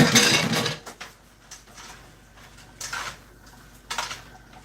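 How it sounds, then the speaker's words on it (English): Mushrooms are tipped into a pan and stirred, giving a loud clattering scrape at first and then a few softer utensil knocks and rustles spaced across a quiet stretch, with no voices. "So now I'm going to add the mushrooms in there."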